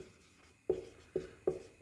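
Chalk or pen writing on a board during a class 10 maths lesson, four quick close taps and scratches in a short irregular rhythm over faint room noise.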